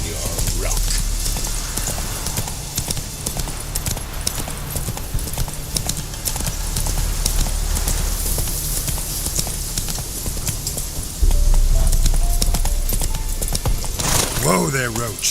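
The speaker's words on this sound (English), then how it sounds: "Whoa there, Roach." A horse's hooves clip-clop at a steady walking rhythm through a long stretch of The Witcher 3 gameplay, with ambient game sound underneath. A brief neigh and voices come near the end.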